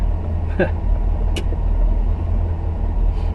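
A 1979 Pontiac Trans Am V8 idles with a steady, loud low rumble heard from inside the car. A couple of brief faint voice sounds rise over the engine.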